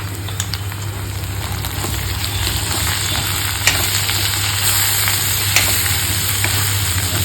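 Pepper powder sautéing in a pan of oil for a liver fry, a steady close crackling sizzle with occasional sharper pops and a low constant hum underneath, no talk.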